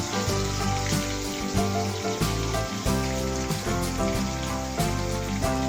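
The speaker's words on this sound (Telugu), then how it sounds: "ఉల్లిపాయ తురుము బాగా వేయించుకోవాలి" Grated onion fries in a pan on a low stove flame, a steady crackling sizzle that carries on throughout, partly masked by louder background music.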